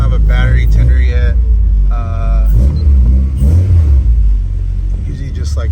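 A 2008 Honda Civic Si engine runs with a deep, loud low rumble as the car is eased into a garage, heavy engine drone continuing under speech that comes and goes.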